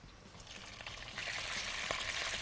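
Chicken pieces hit a hot pan for barbecue chicken, with a steady frying sizzle that swells louder partway through and stays close and continuous.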